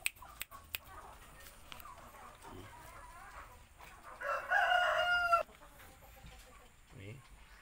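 A free-roaming Shamo rooster crows loudly and clearly partway through, with softer clucks and scratching from the foraging chickens before and after.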